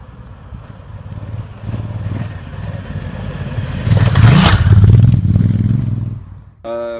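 A 2017 Honda CRF1000L Africa Twin engine idles nearby, then is revved once in a loud, rising burst before it drops back.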